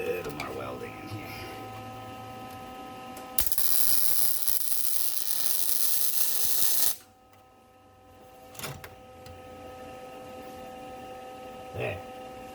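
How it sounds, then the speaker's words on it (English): A welder works on a custom muffler for a vintage Jonsereds 751 chainsaw, giving a loud, steady buzzing hiss for about three seconds that stops abruptly, with quieter workshop hum before and after and a couple of brief knocks. "Just needs a little more welding in here."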